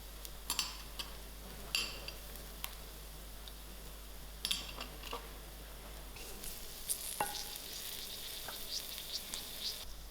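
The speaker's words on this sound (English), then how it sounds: "To this oil, I'm going to add in my masalas." Masala spices frying in hot oil for a spicy Durban-style patha fish curry, giving a quiet, steady crackling sizzle with scattered sharp ticks and pops, heard alone with no talking.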